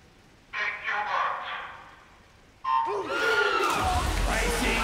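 Swimming arena crowd at a men's 50m freestyle race bursts into loud cheering and yelling, rising twice in waves and swelling to a dense roar by the end.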